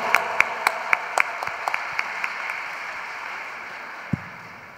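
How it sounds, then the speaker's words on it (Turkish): Scattered hand claps at a Ramadan event in Elazığ, about ten sharp claps in the first half, thinning out over steady room noise with one late clap. "Alkışlarınızla Ziya Polat."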